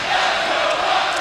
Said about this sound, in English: Good crowd, vocal crowd.